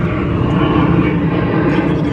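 A two-engine jet airliner passes overhead at night in Kuwait, giving a loud, steady broadband engine roar that holds evenly for a couple of seconds, without voices.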